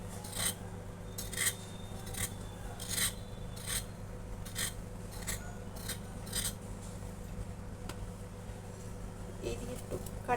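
A knife or peeler scrapes the skin off a pointed gourd (potol) in a home kitchen, making short, soft rasping strokes at an uneven pace over a low background hum.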